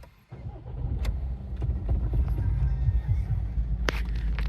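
A diesel Audi A4 2.0 TDI with about 119,700 km is started from inside the cabin, a low steady rumble building and settling into a close idle after a brief quiet moment.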